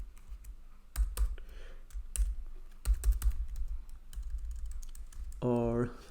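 Fingers type on a computer keyboard in short, uneven bursts of clicky keystrokes, entering a Neo4j Cypher query at close range, ending in a brief tonal blip.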